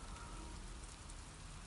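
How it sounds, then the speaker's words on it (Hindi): Rain falling in The Last of Us Part II on PS5, a soft, even hiss of steady rainfall on surfaces with no break across the moment. "ये देखो इधर बारिश हो रही है"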